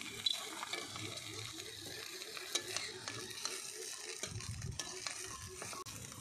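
Taro leaf rolls fry in oil with a close, crackling sizzle, while a utensil stirs and scrapes against the pan throughout.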